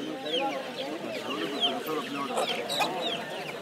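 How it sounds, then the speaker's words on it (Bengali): A rooster clucks in short, close bursts at a busy bird market while people talk nearby and other fowl call in the background. "এটা মোরগ।"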